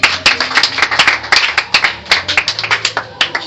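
A church congregation claps together in acclaim of Jesus during a Sunday worship service, a loud, quick run of overlapping handclaps filling the room without a break.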